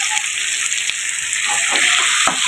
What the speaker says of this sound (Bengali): সামুদ্রিক মাছ রান্না করছি